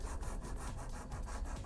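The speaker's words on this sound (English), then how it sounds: "coarse sanding stick, and I just want to knock this" Steady, rhythmic scraping of a coarse sanding stick rubbed back and forth on the edge of a Boba Fett jet pack prop, close up, with even strokes and no voices.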